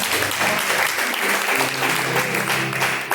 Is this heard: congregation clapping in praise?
yes